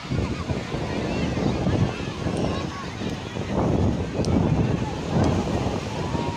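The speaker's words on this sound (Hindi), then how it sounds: "ये पाकिस्तान के बलूचिस्तान के इलाके में मौजूद है ये समंदर" Sea surf on the Balochistan coast of Pakistan, waves washing and breaking in repeated surges with gusty wind buffeting the microphone, loud and close, with a voice talking over it.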